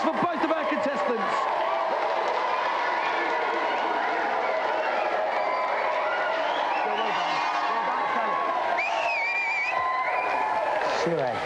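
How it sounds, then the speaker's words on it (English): Studio audience applause at a televised video-game show, a dense, continuous roar of clapping with voices mixed in throughout. "Let's have a big round of applause for both of our contestants."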